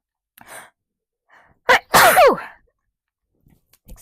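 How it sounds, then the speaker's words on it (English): One person lets out a single loud, close sneeze after a sharp intake of breath, with near silence before and after. "I was ripe and ready for a sneeze"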